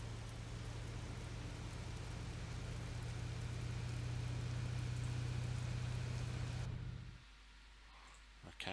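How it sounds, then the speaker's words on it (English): Steady rain in a train simulator game, a broad even wash with a low rumbling hum beneath, continuous and fairly quiet until it cuts off abruptly near the end. "Oh, I hear rain."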